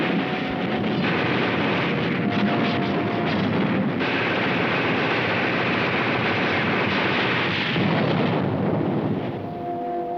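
Artillery fires in a World War II gun duel with enemy batteries during Operation Dragoon. It comes through as a continuous, dense rumble of blasts and booms with a muffled, old-recording quality.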